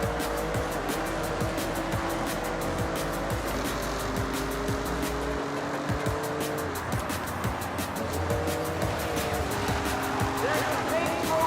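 Racing video game engines roaring and tires squealing in a Japan race, steady loud engine drone with shifting pitch and screeching slides throughout, with talk over it.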